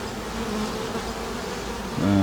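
A swarm of honey bees drones in a dense, steady buzz close by, swelling slightly louder at the very end.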